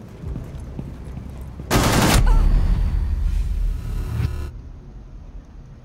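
Gunfire in Rainbow Six Siege during a Tower team deathmatch on PC: one loud, sharp burst of automatic fire lasting about half a second, then a rumbling tail and scattered softer shots fading out.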